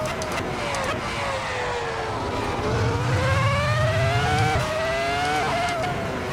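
A V10 Formula 1 car engine screams through a flying lap in a racing game, its pitch climbing steadily and dropping briefly at gear changes, loud and continuous throughout.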